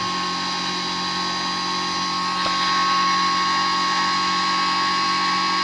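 Pulse motor spinning very fast on a bench setup, a steady high-pitched whine with constant humming tones throughout, close and unbroken, with one faint tick partway through.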